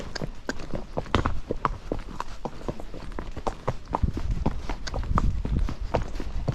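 Steady hoofbeats of a ridden Kentucky Mountain Horse keep a brisk, even rhythm throughout, close and clear with gear rattle and no talk.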